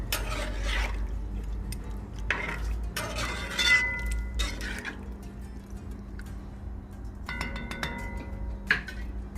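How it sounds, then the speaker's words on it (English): A spoon stirs tamarind chutney into curry duck in a pot, with a few scraping strokes and light metallic clinks spaced apart against a quiet background. "Give it a stir."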